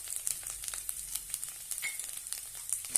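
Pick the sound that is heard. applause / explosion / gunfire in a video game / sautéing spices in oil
sautéing spices in oil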